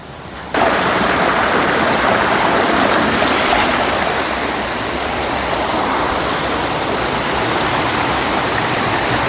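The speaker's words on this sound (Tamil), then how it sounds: "தண்ணியுடைய சவுண்டு கேட்டு பாருங்கள் பயங்கரமாக இருக்கும்" Rushing water of a hidden forest spring roars loud and close, a dense, continuous churning wash that swells in right after the start and holds steady throughout.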